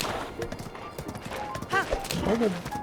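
Horse hooves clip-clop in Zelda: Breath of the Wild as the horse climbs uphill, a brief irregular patter under game sounds, with a horse whinny and someone talking over it.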